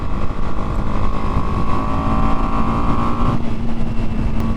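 A 2022 BMW G 310 R motorcycle cruising in fifth gear, its engine a loud, steady drone with a sustained hum that holds level throughout, heavy wind rush underneath, no talking.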